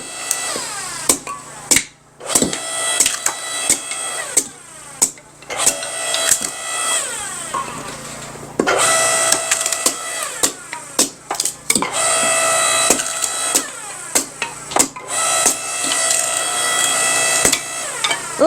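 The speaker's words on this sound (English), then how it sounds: "Wait, let me just try the foot pedal out." Loud mechanical machine noise with repeated sharp cracks and bangs, a hydraulic splitter working through wood, steady and close with brief pauses.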